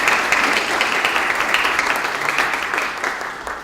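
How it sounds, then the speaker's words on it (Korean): An audience at a founding anniversary ceremony for a National Assembly news outlet gives sustained, dense applause as a professor is introduced, the clapping steady and then easing slightly toward the end. "박수 부탁드리겠습니다."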